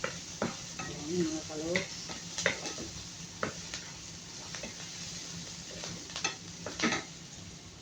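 Pancit canton ingredients stirred and browning in a frying pan, with scraping stir strokes over steady sizzle, close and moderately loud; someone speaks briefly over the cooking.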